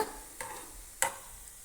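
Beef fries in coconut oil for a Kerala-style beef pickle, a faint continuous sizzle broken by two sharp scraping clicks of a utensil, heard close and alone.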